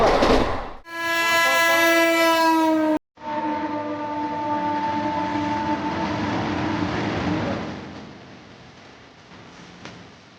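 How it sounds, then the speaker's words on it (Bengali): A passenger train heard from beside its open door: a loud horn blast, then after a brief cut a steady rushing roar of wheels and wind that slowly fades, with no one talking. "প্রচণ্ড আওয়াজ ভাই, প্রচণ্ড আওয়াজ ট্রেনে"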